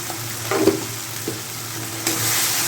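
Spice masala with red chili powder and turmeric sautés in a pan for an egg, potato and capsicum curry, a steady low sizzle with a few scraping stirs near the start and a louder burst of frying toward the end.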